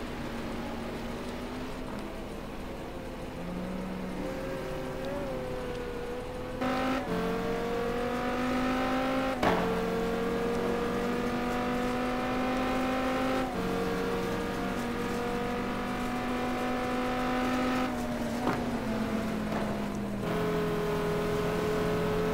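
GT1 race cars in a race at Suzuka, several engines droning together with rising and falling pitch as they shift gears, a steady loud pack sound with no voices.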